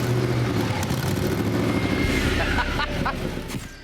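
A Mazda B2500 truck fitted with a Ford Marauder 4.6 V8 and a newly built exhaust system revving loudly and continuously nearby, with a deep throaty rumble that eases slightly near the end.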